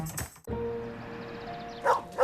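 A dog in a TV car advert for a Nissan Rogue gives a few barks at the start and again near the end, loud and close, with a tonal hum in between.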